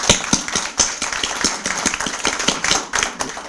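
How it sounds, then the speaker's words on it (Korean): Audience clapping welcomes a People Power Party presidential hopeful at a debate event, a dense, steady patter of many hands over about three seconds, fairly close and continuous with no speech. "큰 박수로 환영해 주십시오."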